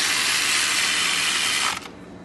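A ratchet clicks rapidly and steadily as it tightens the tensioner pulley bolts on a 2013 BMW 328i during an alternator replacement, close and loud, stopping abruptly near the end.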